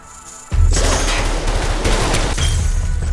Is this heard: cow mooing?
no